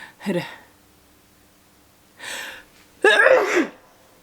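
A short sneeze, then a quieter breathy intake and a second, louder sneeze, close up with no talking.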